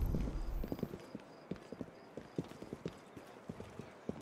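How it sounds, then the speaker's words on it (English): Steady clip-clop of horse hooves on a hard road in Assassin's Creed Syndicate, an even trotting rhythm of sharp knocks, with a brief whinny-like tone at the start. "we'll just travel by horse and carriage"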